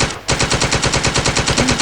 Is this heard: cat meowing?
no